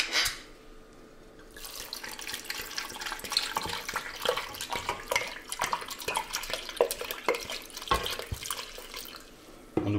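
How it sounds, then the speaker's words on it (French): White wine poured into a cooking pot gives a close, continuous splashing gurgle that lasts about ten seconds, with no talking. "On va verser les 50 centilitres de vin blanc."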